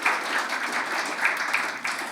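A church congregation applauds during a worship service, a steady, dense wash of many hands clapping at once, sustained for a couple of seconds with slight swells.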